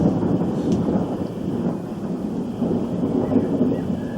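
A low rumble of thunder rolls on steadily with a soft wash of rain beneath it, sustained and moderately loud, without anyone talking.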